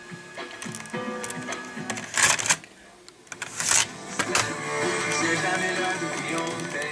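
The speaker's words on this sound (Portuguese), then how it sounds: "Para ejetar a fita" A Toshiba TX 204A cassette deck ejects a tape, giving close mechanical clicks and clunks with two sharper bursts of rattling mechanism noise, and a steady background hum continuing afterward.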